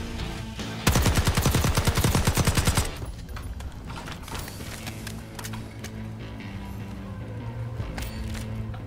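Rapid burst of flame shotgun gunfire in Call of Duty: Black Ops 6, loud and dense for about two seconds, then quieter scattered shots and game noise underneath.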